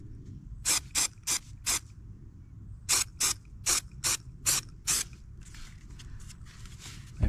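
An aerosol spray paint can is sprayed onto the wheel arch of a Vauxhall Meriva in about ten short, sharp hissing bursts in two groups, followed by a softer trailing hiss, recorded close with no talking.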